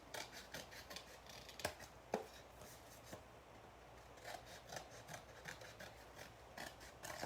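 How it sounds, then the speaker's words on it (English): Scissors trimming excess paper during a stamping craft session, faint close-up repeated snipping and rasping blade strokes with a few sharper clicks, quiet and steady throughout. "Just cutting off that excess again."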